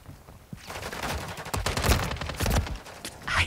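Bursts of automatic gunfire from Call of Duty Modern Warfare III multiplayer, a rapid chain of sharp shots rising and falling in loudness, with a few heavier cracks standing out near the end.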